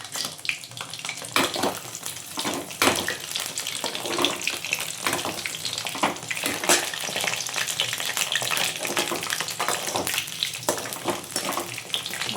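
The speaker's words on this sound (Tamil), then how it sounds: "கத்திரிக்காய் இந்த மாதிரி நாளாக கீறிட்டு நம்ம எண்ணெயில் போட்டு வேக வச்சுக்கலாம்" Slit brinjals frying in oil in a pan, a loud continuous close sizzle with sharp popping crackles scattered through it, no voices.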